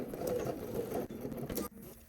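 Domestic sewing machine running steadily as it stitches in the ditch along a skirt's side seams, a close, continuous mechanical whir with rapid needle patter that stops abruptly near the end.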